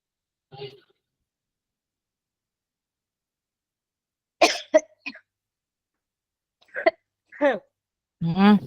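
Several separate coughs scattered across a quiet stretch, a single one first, then a cluster of harsh coughs and throat sounds toward the end.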